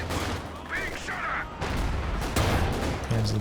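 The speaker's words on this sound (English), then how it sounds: "That's just the barrage though." An artillery barrage rumbles in a Company of Heroes 2 match, with dense booms and crackling impacts rolling continuously under a commentator's talk.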